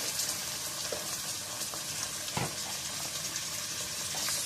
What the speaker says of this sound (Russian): бросаем мясо сейчас. Мясо у меня баранина.